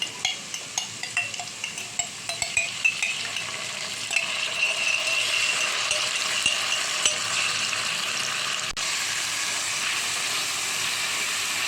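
Tomato paste sautés with garlic and peppers in a pan, a steady bright sizzle and hiss running throughout, with light clinks of a utensil stirring early on.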